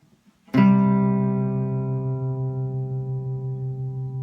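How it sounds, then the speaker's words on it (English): A single fifth on an equal-tempered guitar, delay off, is struck and left ringing, its sustained tone wavering in a slow, even beat as it gradually fades. "if I play a fifth in this equally tempered guitar"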